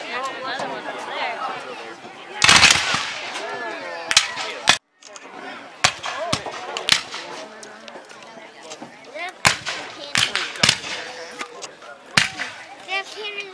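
Sharp cannon bangs and gunfire cracks ring out at intervals at a Civil War battle reenactment in Astoria, Oregon, one loud burst early and several more scattered through, under ongoing chatter from people nearby.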